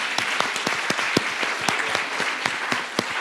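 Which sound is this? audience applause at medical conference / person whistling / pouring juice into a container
audience applause at medical conference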